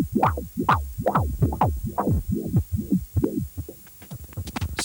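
Swept filter effect from a Roland MC-09 groovebox shaping a pulsing synth pattern, with repeated rising and falling tonal sweeps in a steady throbbing rhythm, loud and close, alone without talk.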